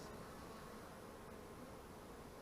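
Honey bees buzz steadily at a beehive, a dense, continuous droning hum that is faint and uninterrupted throughout, with no voices.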